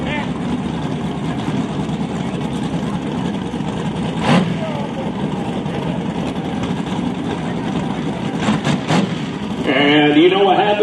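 A Ford Mustang with a 289 engine at a no-prep drag racing event, a steady loud engine drone throughout with a couple of sharp bursts midway and a rising rev near the end, under crowd and announcer noise.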